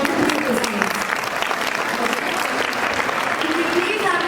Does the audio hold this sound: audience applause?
yes